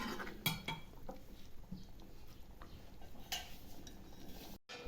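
Prawn and potato curry stirred in a pot gives faint scraping and light clinks of a spoon against the metal, soft and intermittent at low volume.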